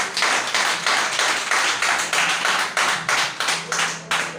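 A church congregation claps together in steady, rhythmic unison, about three claps a second, loud and close, continuing alone without talk.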